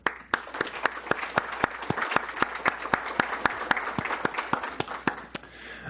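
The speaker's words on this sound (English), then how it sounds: "I want to give you a round of applause" At a conference closing plenary, one close pair of hands claps in a steady, measured rhythm, about three to four claps per second, over a softer smattering of scattered applause from the room.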